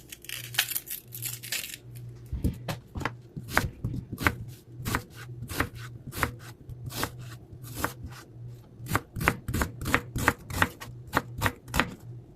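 Sharp, rapid knife chops on a cutting board as an onion is diced for red beans and rice, a steady run of crisp close strikes with brief pauses, no talking.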